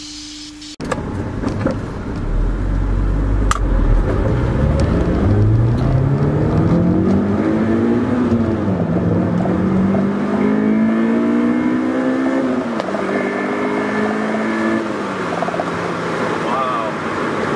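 A Honda S2000 AP1 fitted with a K&N intake accelerates through the gears, its engine note climbing in pitch, dipping at each shift and rising again, loud and close throughout.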